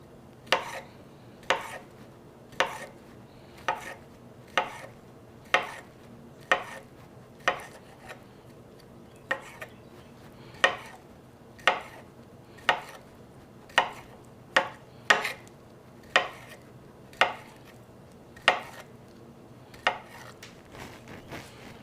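Potatoes cut into quarters with a knife on a cutting board for a smothered potato and sausage skillet, sharp regular chops about one per second, close and clear with no talk.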